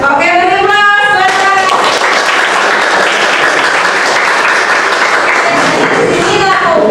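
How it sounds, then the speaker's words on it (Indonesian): An audience bursts into loud, dense applause, with many hands clapping steadily for several seconds right after a speaker's voice, which returns as the clapping fades. "Oke, beri aplaus."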